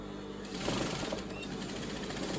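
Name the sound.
sewing machine stitching fabric scrunchie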